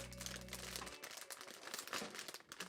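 A plastic rip-open blind box bag for a Skullpanda figure crinkles and crackles in dense, irregular bursts close by, faint overall, with a low hum cutting out after the first second.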